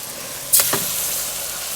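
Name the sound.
mutton sizzling as it is added to the pan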